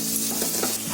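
Grated carrot and capsicum stir-frying in a hot pan for a homemade Schezwan Chinese dish, a steady close sizzle with soft stirring scrapes throughout the short moment, no voices.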